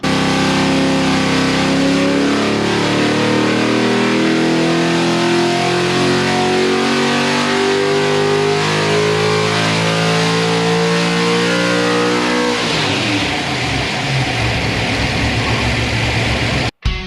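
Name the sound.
car engine revving on a dyno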